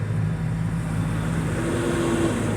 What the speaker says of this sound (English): Got some trucks going by.